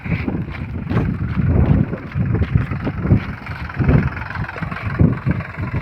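A tractor engine runs steadily while spraying pesticide through downward nozzles over a maize crop, a close, continuous low rumble with gusting wind noise buffeting the microphone throughout.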